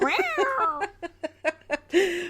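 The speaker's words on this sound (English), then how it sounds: "There may be some noises in the background that just kitty grunting" A cat vocalizes in a quick series of short, throaty meow-like calls close to the mic, each separate and fairly loud, with a longer drawn-out call at the end and no talking.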